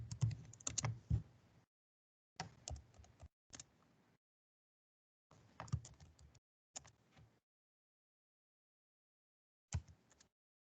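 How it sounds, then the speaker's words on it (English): Computer keyboard keys typed in several quick bursts separated by pauses, close and fairly quiet, with no talking. "I'm going to type a few of them down here in the chat."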